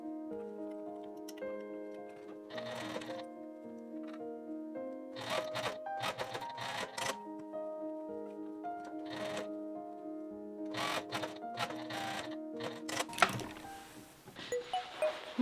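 A sewing machine stitches the shoulder seam of a facing for a woven cardigan in short separate bursts of quick mechanical ticking, with quiet pauses and music playing underneath.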